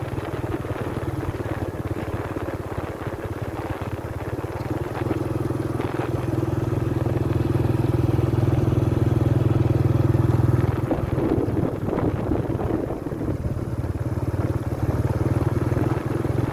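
A motorcycle ridden along a road between villages runs steadily close by, its engine drone continuous throughout with wind and road clatter, without talk.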